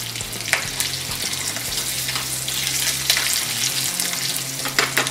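Mustard seeds, asafoetida, curry leaves and green chilies crackle and sizzle in hot oil for a dhokla tempering, a steady close frying hiss with sharp popping bursts throughout, no voices.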